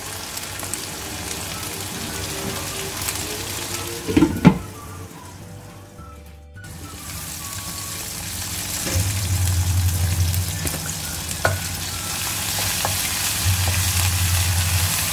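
Fish sambal with curry leaves frying in a covered pan, a continuous moderate sizzle with a couple of clatters of the lid or utensil, a brief hush, then steady bubbling and hissing resuming.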